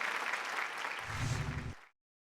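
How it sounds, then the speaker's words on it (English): Audience applause at a personal finance summit, a broad wash of clapping that swells briefly as music comes in, then cuts off abruptly into silence. "A huge round of applause then for Rakesh Om Prakash Mehra."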